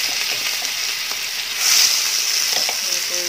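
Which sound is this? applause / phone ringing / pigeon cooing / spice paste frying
spice paste frying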